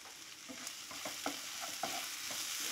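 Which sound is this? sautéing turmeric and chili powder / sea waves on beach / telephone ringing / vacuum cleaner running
sautéing turmeric and chili powder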